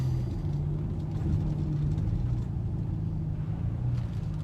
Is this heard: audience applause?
no